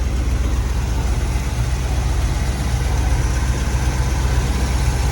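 A 1950 GMC truck engine on solid mounts idles with a steady, deep, rough rumble that stays loud and close throughout.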